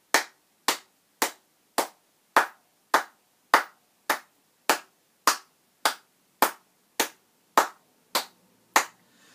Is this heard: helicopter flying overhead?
no